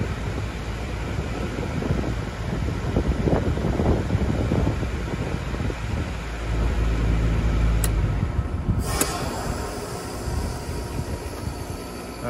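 A Goodman heat pump outdoor unit shifting into defrost: a steady broadband whooshing rush with low rumble, then a sharp click and hiss as the reversing valve shifts near the end, with no talking.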